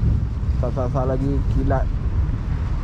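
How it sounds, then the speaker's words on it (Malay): Strong, steady wind roars under a bridge during a sudden storm while fishing, a continuous broadband rush that stays loud throughout, with someone talking briefly over it. "Dalam keadaan angin kuat macam ni, ribut tiba-tiba main ni"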